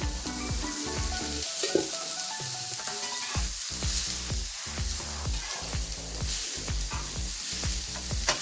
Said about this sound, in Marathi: कांद्यात आपण थोडंसं तेल टाकून घेऊ, म्हणजे आपला कांदा पटकन भाजला जाईल